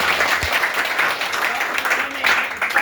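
Audience applause at a talk or storytelling session in a tailoring training centre, a dense steady patter of many hands clapping that fills the whole stretch at moderate loudness, with faint voices mixed in.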